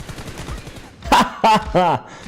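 Rapid bursts of gunfire from a PUBG Mobile team deathmatch rattle for about a second, followed by a voice talking over the game.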